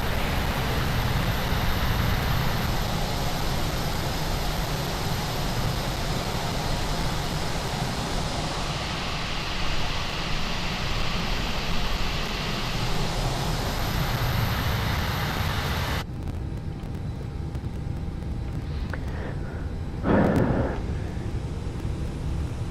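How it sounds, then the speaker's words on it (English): In Microsoft Flight Simulator, an airliner's jet engine spools with a steady, dense broadband roar that holds for about sixteen seconds before dropping to a quieter hum broken by a brief thump. "Engine number 2 available"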